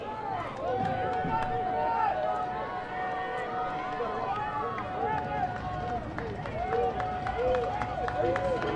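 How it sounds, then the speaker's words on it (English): Sideline crowd at a college football game between Mary Hardin-Baylor and Southwestern keeps up a steady roar of shouts and chatter, with scattered claps, under a commentator's voice throughout. "the crowd trying to stay in the ball game here on the near sideline, making a bunch of noise"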